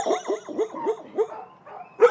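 Several dogs bark in kennels in a rapid, overlapping chorus of yelps and barks, fairly close, with a louder burst at the end and no talk.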